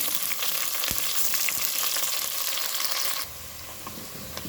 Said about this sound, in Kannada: ಈರುಳ್ಳಿ ಸ್ವಲ್ಪ ರೋಸ್ಟ್ ಆಗಲಿ ಅಂದರೆ ಸ್ವಲ್ಪ ಕೆಂಪಗಾಗೋ ತನಕ ಹುರ್ಕೋಬೇಕು